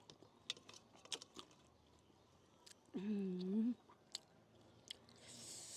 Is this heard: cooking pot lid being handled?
no